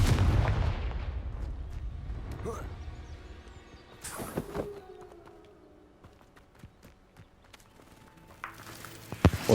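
Spell blasts and explosions from the Hogwarts Legacy video game sound as sharp bursts and booms over a rumbling battle background, with a fading whoosh between hits. A voice shouts over the action.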